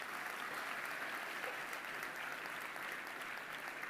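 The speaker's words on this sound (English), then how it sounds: "You can clap, you know who I'm talking about." Audience at a conference event applauds to welcome a speaker to the stage, a dense, even wash of clapping from a large crowd, heard at a moderate distance and continuing without a break.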